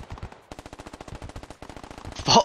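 Rapid, evenly spaced shotgun blasts fired into a bush in the military shooter game Squad, a dense string of sharp reports with a louder burst at the end, close and loud with no talk.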